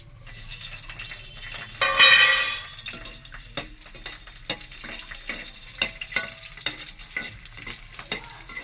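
A tempering of spices frying in a pan for tomato coconut chutney, a sharp sizzling burst as it hits the oil, then repeated clinks and scrapes of stirring, close up.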